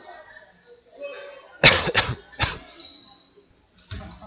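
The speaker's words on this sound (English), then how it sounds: "Excuse me for my cough" A sports commentator's coughing fit, a burst of three or four sharp close coughs in quick succession after quieter background sounds, with a brief pause before a final faint cough.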